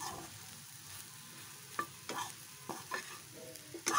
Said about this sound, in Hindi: चलिए ये अच्छे से फ्राई हो चुका है